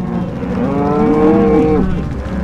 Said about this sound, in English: It's a time to drive the cattle to spring pastures with the family.